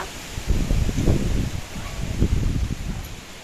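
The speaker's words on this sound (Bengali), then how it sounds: "ওই হাওয়াতেই তো গাছের পাতা নড়ছে" Wind stirring tree leaves on an empty road as a storm rises, a broad close rustle that swells in gusts and then eases, with no talking.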